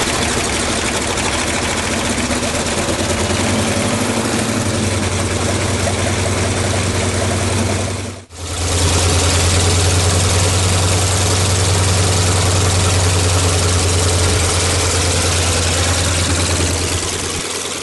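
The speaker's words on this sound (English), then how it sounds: "is a Sukhoi 26MX that's been upgraded to a Vednev M14PF engine, which is a higher performance engine" A Sukhoi 26MX aerobatic plane with a supercharged Vedeneyev M14PF radial engine of about 410 horsepower runs loud and close, a steady heavy drone with a brief dip midway before it resumes strongly.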